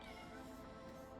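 A house cat meowing insistently to be fed, one drawn-out, fairly quiet meow over a low background.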